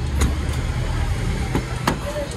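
A motorcycle taxi passes on a busy Cebu City street, a steady low engine rumble with broadband traffic noise and a few sharp clicks and knocks, fairly close and continuous.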